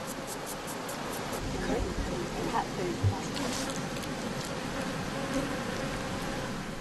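Bees buzz densely and continuously around an outdoor honey harvest in the Changbai Mountains, with a constant close hum and faint talk underneath.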